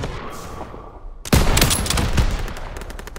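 Rapid automatic gunfire erupts in the World War II shooter Call of Duty: WWII after a quieter battlefield rumble, a dense loud burst of shots that continues in a chattering stream.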